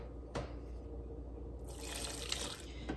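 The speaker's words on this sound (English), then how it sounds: "So now I'm going to add water, the water to the max line." A kitchen tap runs water into a pot of bone broth, a faint hiss that swells into a louder, bright steady gush partway through, with a couple of small knocks.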